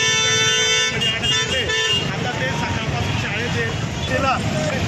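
Congested street traffic near a tehsil office after school lets out, with repeated car horns honking over a steady rumble of engines and motorcycles close by, while people talk throughout.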